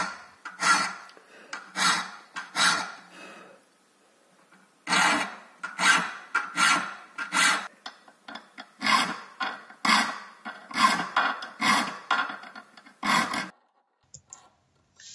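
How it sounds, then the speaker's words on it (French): Triangular and round metal files rasp across a recurve knife blade to cut decorative patterns, making steady rhythmic back-and-forth strokes, loud and close, with a pause midway. "ici je me suis servi d'une lime triangle et juste avant vous l'avez vu d'une lime ronde"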